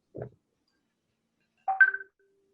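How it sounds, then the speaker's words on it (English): Phone notification tones sound in a quiet room: a short low blip, then a pause, then a brighter two-note chime that fades, with no talking. "Somebody's phone is tweaking,"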